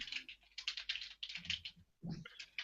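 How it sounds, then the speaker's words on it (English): Typing on a computer keyboard, close and quiet, fast bursts of crisp key clicks with brief pauses between runs. "Typing to some friends, okay?"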